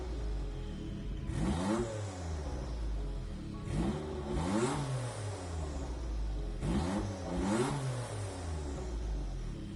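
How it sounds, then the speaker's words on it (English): A Jaguar V6 turbo car in Gran Turismo revs repeatedly, with three or four rising and falling engine sweeps spaced a few seconds apart, loud and alone with no talking. "Here's a small sound clip of the car."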